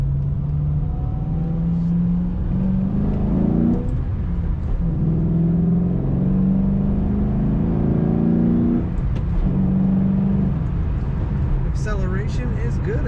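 2007 Ford Mustang Shelby GT accelerating, a steady mid-level engine drone rising in pitch through gears with a shift around the middle, heard from inside the car with someone talking over it.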